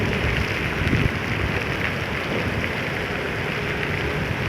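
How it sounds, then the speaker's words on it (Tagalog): Heavy rain pouring steadily around a vehicle on a morning drive, a dense constant wash with some wind noise and no talk. "Blur na, ibig sabihin malakas yung ulan."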